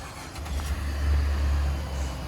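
A 2017 GMC Terrain Denali with a 3.6 liter V6 starts on a cold day, giving a steady close engine rumble that settles into idle with no talk over it.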